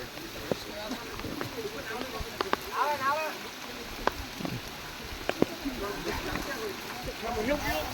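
Rain falls in a forest with a soft, steady patter, scattered sharp drips and splashes close by, and quiet talking and laughter mixed in.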